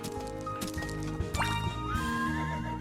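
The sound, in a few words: horse neighing and hooves in Horse Club Adventures video game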